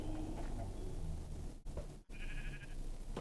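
A Minecraft sheep gives a short, nasal bleat over a steady game background hum, fairly quiet and heard once near the end.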